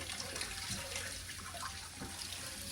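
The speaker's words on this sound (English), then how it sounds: "I'm just giving it one final rinse of the water on top." Tap water running over raw chicken pieces in a kitchen sink during a final rinse, a soft continuous faucet stream with light splashing, fairly quiet and without speech.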